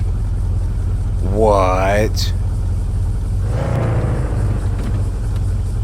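A car engine in the horror game The Radio Station drones steadily throughout at a constant loud level, with a person talking over the middle of it.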